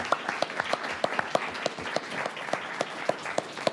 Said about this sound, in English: Give it a round of applause for these young people